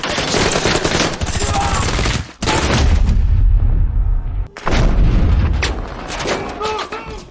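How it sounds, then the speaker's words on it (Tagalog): Heavy gunfire rattles in rapid bursts, with loud booms and brief pauses between volleys, close and intense. "Rumagasa ang mga armadong kalaban at nagsimula ang putukan."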